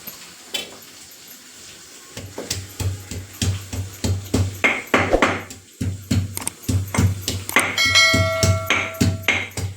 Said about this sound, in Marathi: तोपर्यंत आपण लसूण ठेचून घेऊया.